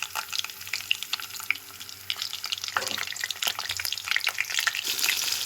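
Green chillies and panch phoron sizzle and crackle in hot oil as a Bengali sabji begins, a steady frying hiss with small pops and stirring clatter.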